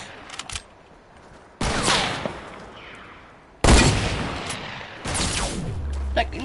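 Video game gunshots, several loud separate blasts each followed by a long decaying tail, spaced a second or two apart.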